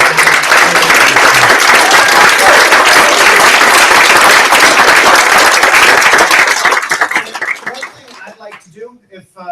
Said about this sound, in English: I would like for all of us to give another round of applause for all the participants, the hackers